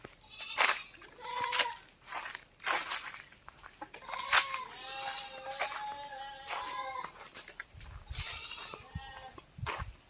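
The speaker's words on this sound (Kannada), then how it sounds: "ಕುರಿ ಮರಿಗಳಿವೆ." Sheep lambs on a farm in Chamarajanagar, Karnataka, bleat repeatedly, close by and fairly loud in several overlapping calls, with a few soft thumps toward the end.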